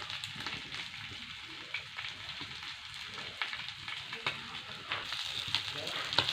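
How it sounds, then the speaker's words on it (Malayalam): Fish fry in oil in a pan in a home kitchen, a steady close sizzle and crackle running throughout with small sharp pops, no talking over it. "ഇന്ന് മീൻ കുറച്ച് മീനെടുത്തിട്ട് കറി വെച്ചിട്ടുള്ളൂ. എല്ലാം വറക്കാമെന്ന് വെച്ച്"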